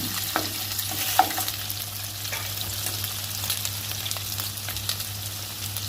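Soy-sauce-marinated pork ribs sizzle and crackle in a hot pan, with scattered pops and the scrape of stirring over a steady frying hiss.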